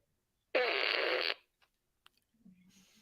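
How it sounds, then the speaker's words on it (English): A fart sound effect in a show intro: one loud, buzzy blast of about a second that stands alone against silence, followed by a few faint ticks and a low hum. "he's just farting up the intros"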